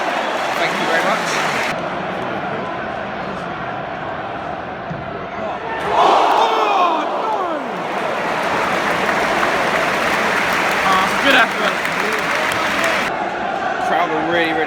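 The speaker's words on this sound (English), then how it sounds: "Crowd are really going for it now" A football crowd roars and chants at a Manchester United versus Leicester City Premier League match, a dense, loud stadium din with surges, and a nearby voice talking over it.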